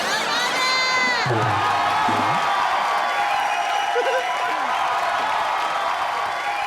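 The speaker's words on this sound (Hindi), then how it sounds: "सस्ते रणवीर सिंह के लिए जोरदार तालियां हो जाएं।" Loud studio audience applause and cheering fill the room at a comedy TV show, with whoops and shouts over steady clapping throughout.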